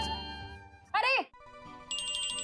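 A telephone rings indoors with a bright electronic trill that starts near the end, after people speak in a domestic scene.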